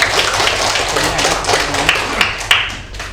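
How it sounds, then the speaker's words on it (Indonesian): A classroom of students claps hands together at the end of a lesson, a close, brisk patter of many claps with a few sharper individual claps standing out near the end. "Tepuk tangan dong"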